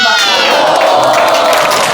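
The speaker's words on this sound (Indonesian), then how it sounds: "Beri tepuk tangan buat kelompok 4." Elementary schoolchildren in a classroom cheer and shout loudly for group 4, a dense, bright burst of young voices whooping together with little clapping heard.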